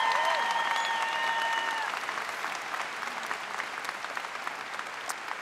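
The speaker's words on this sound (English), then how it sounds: "Let's have a round of applause to show we're thinking of them." Graduation ceremony audience applauding at the College at Brockport 2016 afternoon ceremony, a dense steady wash of clapping from a large crowd that eases slightly in volume midway and carries on alone without talk.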